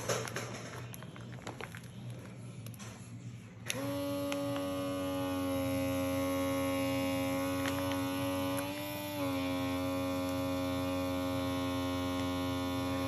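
After a few quiet seconds, a small vacuum sealer motor switches on with a steady electric hum that drones on, dipping slightly in pitch partway through.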